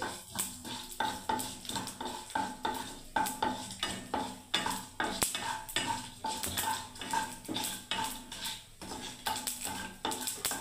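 Cumin and whole fenugreek seeds being stirred in a pan for a sweet-and-sour tomato chutney, with a steady run of utensil scrapes and clinks against the pan over a faint sizzle, close and rhythmic.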